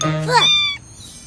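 A cartoon cat in the Gummy Bear Show meows from somewhere up above, one short rising-and-falling cry followed by a fainter tonal tail, heard alone without talk.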